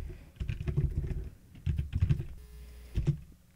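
Keystrokes on a computer keyboard as a Linux terminal command is entered, in short bursts of close, clicky taps separated by brief pauses.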